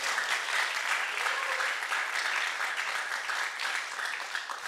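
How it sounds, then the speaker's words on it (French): Steady audience applause fills the whole stretch, dense and even, with a few faint voices mixed into the clapping at a French-language class or talk. "Est-ce que vous pouvez applaudir?"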